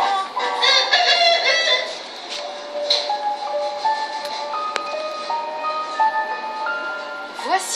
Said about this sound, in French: Ça ressemble à un poulet, mais où sont passées les plumes?